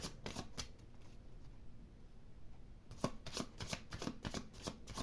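Oracle cards being shuffled and drawn from a deck, heard as a run of quick papery riffles and flicks, then a short pause before another burst of rapid shuffling, close and fairly quiet.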